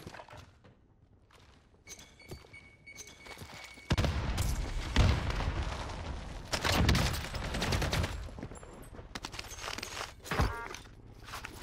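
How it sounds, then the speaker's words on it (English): Gunfire in Call of Duty Cold War Warzone: bursts of shots and rapid automatic fire, some distant and some close and loud, mixed with footsteps and clattering movement. "Is that a friendly shot?"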